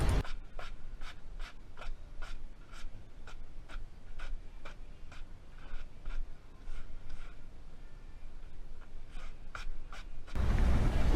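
Soft, rhythmic scrubbing strokes repeat steadily, a brush sweeping back and forth over a surface, close and fairly quiet, ending with a brief rush of noise.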